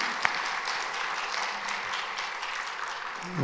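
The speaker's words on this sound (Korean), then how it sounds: "네, 박수 한번 쳐드리세요." A church congregation applauds during a Sunday worship service, a steady wash of clapping from many hands filling the room at moderate level, with no voices over it.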